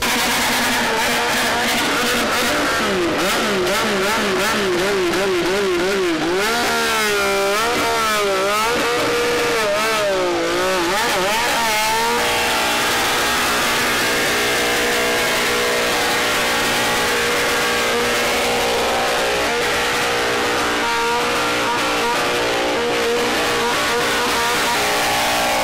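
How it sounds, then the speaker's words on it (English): A tuned motorcycle with a very loud exhaust revs hard at a 2016 bikers' convergence in Abeokuta, with rising and falling throttle blips followed by a sustained, roaring high-rpm drone, loud and close, with no talking. "Because it's tuned up and it has a very loud exhaust"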